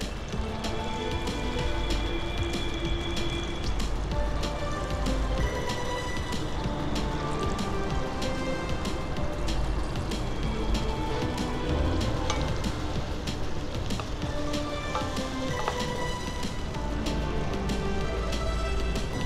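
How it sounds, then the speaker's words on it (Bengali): Hilsa fish curry gently simmering in a pan, giving a soft, steady bubbling and crackling sizzle with faint clinks, moderately quiet and continuous. "ঝোলটা হালকা ফুটে উঠছে"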